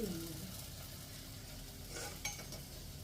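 Fish frying in a pan gives a low, even sizzle throughout, with a couple of faint scraping stirs near the end and no talk.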